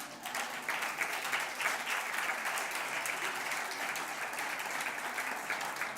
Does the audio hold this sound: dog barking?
no